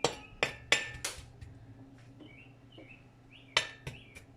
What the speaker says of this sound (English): Keep stirring it because you don't want it to burn.